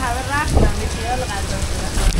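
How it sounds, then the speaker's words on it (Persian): Heavy rain pours during a storm in Amsterdam, a dense close hiss of drops beating on surfaces. A voice is heard faintly under it. "کت من از زیر از پایین به بالا هم حتی بارونه میریزه"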